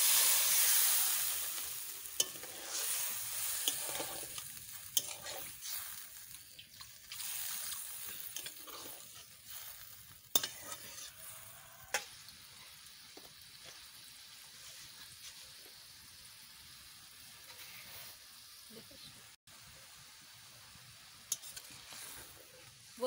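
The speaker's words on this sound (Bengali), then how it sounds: "এবারটা আমি জল দিয়ে দিচ্ছি।" Water splashes into a spice paste frying in a pan for a fish curry, a loud burst of sizzling at first that settles into a quieter bubbling hiss, with occasional clinks and stirring.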